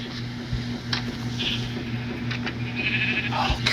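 Sheep in Minecraft bleat in short repeated calls over a steady low game hum and background music, with no talking.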